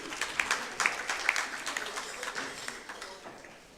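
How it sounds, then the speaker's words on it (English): Audience applause welcoming a speaker at an international congress of NRIs, a few sharp claps up front swelling into a moderate round that gradually fades away. "Let's give him a warm round of applause."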